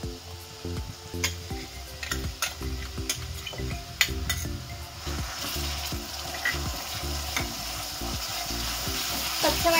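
Raw ground masala paste sizzles and crackles in hot oil for a soybean curry, with repeated scraping and stirring clicks from a spoon against the pan, and the frying growing louder and brighter toward the end.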